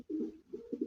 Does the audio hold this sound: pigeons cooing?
yes